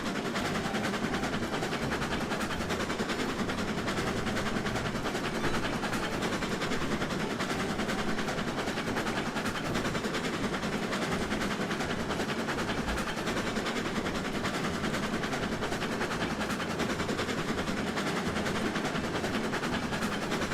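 A steam locomotive in the Railroads Online game labours up a hill, a steady, dense rumble and chuffing drone that runs continuously without a break and without any voices.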